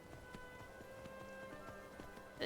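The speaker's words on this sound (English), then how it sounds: "The horse will, like, tilt up onto its feet and then you get on it." A horse's hooves clip-clop at a steady walking rhythm in the video game Skyrim, fairly quiet over a low game ambience, ending in a brief burst of noise.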